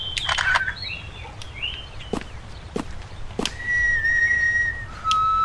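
A character whistles in the horror video game DreadOut, a few short melodic notes rising into a sustained tone, over game ambience and footstep-like thumps, fairly close and clear.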